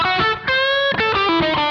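Electric guitar on the combined middle and bridge positions of Lollar Firebird pickups, with a few loud, slightly driven notes and chords ringing out briefly in quick succession, no voices.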